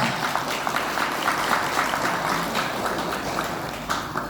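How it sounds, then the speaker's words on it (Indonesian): Audience applauding at a school graduation gathering for senior students: dense, steady clapping from a large crowd, loud and continuous with slight swells, no voices on top. "Kasih tepuk tangan"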